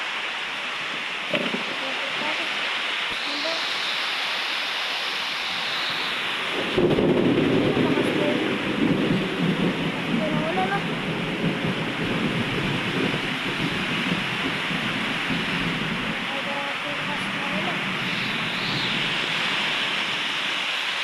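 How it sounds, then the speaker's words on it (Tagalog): Steady heavy rain roars throughout, with a deeper rumble swelling in partway through, like thunder rolling under the downpour. "Sobrang lakas po ng ulan."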